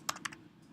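Fingers type on a computer keyboard, a quick pair of close, soft key clicks followed by a faint later tap, with no one talking.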